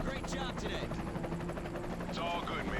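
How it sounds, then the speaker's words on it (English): Eisenhower's helicopter in the video game Army of Two gives a continuous rotor drone, steady and fairly loud throughout, with voices talking over it. "Hey, that's Eisenhower's chopper."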